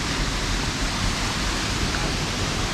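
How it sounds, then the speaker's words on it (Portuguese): Pedra Furada waterfall in the Amazonas roars as a loud, unbroken rush of falling water, close and constant. "Chegamos aqui na Cachoeira Pedra Furada."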